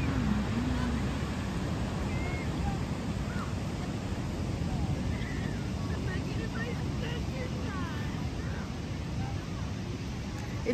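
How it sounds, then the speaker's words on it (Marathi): Waves at Lorne Beach at night on the Great Ocean Road, a steady low wash of surf heard from a distance, with faint speech and chirps sitting faintly over the continuous rumble. "लॉर्ना बीच ॲट नाईट सुंदर अशी लाट बघा"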